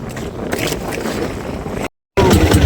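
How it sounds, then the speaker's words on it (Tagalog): Loud wind buffets the microphone over rough sea water slapping against a fishing boat during net fishing, with a brief dropout before the roar resumes. "Medyo malakas na yung alon. Sa hangin."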